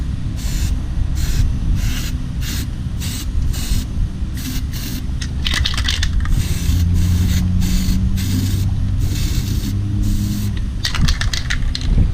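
Paint stripper sprayed from a can onto the front wheel of a Kawasaki Z800 motorcycle, in a run of short, close, hissing bursts. The bursts come one after another with brief gaps between them, and two longer sprays follow.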